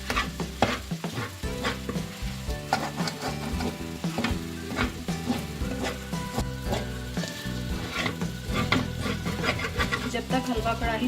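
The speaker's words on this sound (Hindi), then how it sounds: "हल्का हल्का सूजी का कलर चेंज होने लगा है, लेकिन अभी इसकी मज़ीद और भुनाई होगी।" Semolina being dry-roasted and stirred in a kadhai for makhandi halwa: a dense, rhythmic scraping and gentle sizzle close up, continuing steadily beneath background music.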